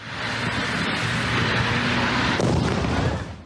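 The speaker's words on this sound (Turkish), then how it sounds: "Yanan vidanjör böyle patladı." A burning vacuum tanker truck explodes after overturning: a loud, sustained roaring blast with a deep rumble throughout, swelling into a burst near the end before fading.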